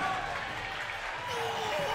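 A tournament crowd at a Street Fighter IV top-eight final cheers and claps in a sustained, loud wash, with a commentator talking over the noise.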